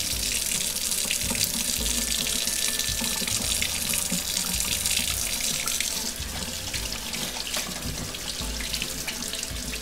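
Water runs steadily from a faucet during handwashing, a continuous hissing splash into the sink that holds at the same level throughout, with no talking.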